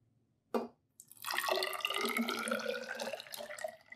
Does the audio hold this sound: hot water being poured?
yes